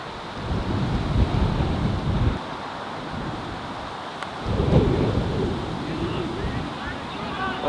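Strong gusty wind blows across an outdoor cricket ground, buffeting the microphone in loud rumbling surges that ease and return, heavy at first, dropping, then rising again later.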